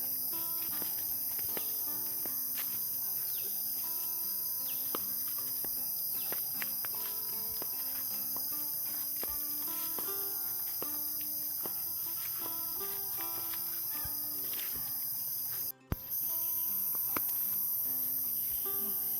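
Dense, steady cicada buzzing fills a southern Laos hill forest soundscape, with scattered clicks and chirps over a constant high drone and a brief dropout near the end.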